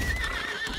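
A brief burst of horse sounds in the video game Lost Ark, a whinny-like tone over soft hoof noise, heard alone with no talking.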